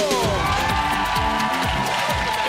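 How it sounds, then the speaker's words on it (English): A studio audience on a BBC lottery game show claps, cheers and whoops loudly and steadily for the host Eamonn Holmes, a dense roar of many hands and voices sustained throughout. "Would you please make a big round of applause for Mr. Eamonn Holmes?"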